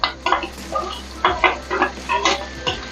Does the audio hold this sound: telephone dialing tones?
no